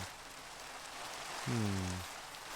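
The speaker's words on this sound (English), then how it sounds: "it would be raining" Steady hiss of rain in a video game, an even wash of falling drops that runs throughout, with a brief low tonal sound rising over it partway through.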